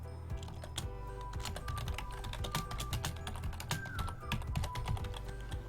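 Steady, rapid clicking of keys on a computer keyboard, close up and continuous, with no talking.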